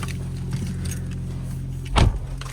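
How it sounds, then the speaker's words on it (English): Car engines idling steadily in a cold lot while cars are shuffled around, a low continuous rumble with a sharp thud like a door shutting near the end; no talk. "We're just moving the cars around."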